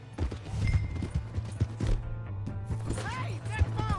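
Horse hooves clip-clop at a steady, brisk rhythm in Red Dead Redemption 2, with close, repeated thuds running through the whole stretch while a voice shouts over them near the end.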